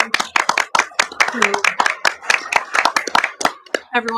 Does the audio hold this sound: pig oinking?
no